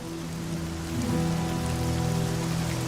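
Steady rain falls outdoors at night, a dense continuous patter on surfaces that swells slightly louder after the first second and holds evenly, with no voices.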